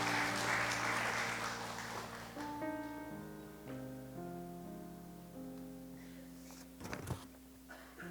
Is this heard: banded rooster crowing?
no